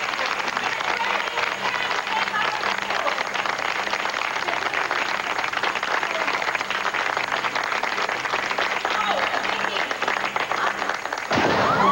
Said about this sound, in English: let's give Viki a warm round of applause